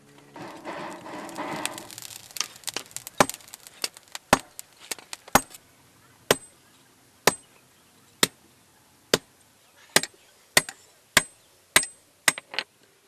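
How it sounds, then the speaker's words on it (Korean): A blacksmith hammers a scrap iron pipe at a village forge in Ethiopia, striking sharp metallic blows that settle into a steady, evenly spaced rhythm after a busier, clattering start. "포철 파이프를 망치로 두드리고 벌겋게 달고"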